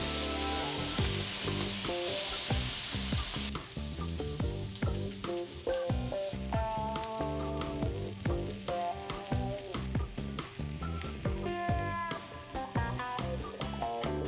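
Food sizzling on a grill with a loud, continuous crackling hiss and scattered pops up close, steady throughout with no talking.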